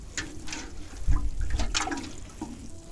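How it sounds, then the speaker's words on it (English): Water poured from a can or hose onto freshly planted garlic bulbs in a small garden bed, a soft splashing trickle that swells briefly, close and moderately loud, with no talking. "I'll just give them a light water."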